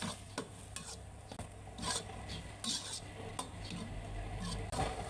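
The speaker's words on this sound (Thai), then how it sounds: "ใส่เครื่องปรุงแล้วก็คนให้เข้ากันนะทุกคน" Okra with seasoning is stirred in a pan, giving close, repeated scraping and rasping strokes of a utensil against metal over a faint sizzle, quiet overall.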